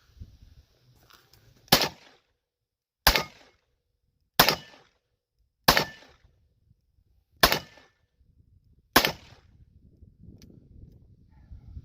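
Six sharp, loud Ruger GP100 revolver shots fired double action, spaced about one to one and a half seconds apart, each a crisp crack with a short ringing decay, quiet between.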